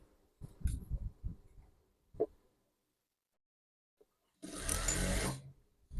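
A sewing machine stitches a white round-neck garment in short bursts: a few quick runs early on, then a sustained, louder whirring run near the end, close and clear with no talking.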